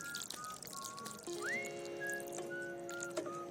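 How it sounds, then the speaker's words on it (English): Tap water is poured into a container holding an avocado seed, a soft trickling pour with rising gurgling tones as the vessel fills, quiet and close. "make sure you pour some normal tap water in this container"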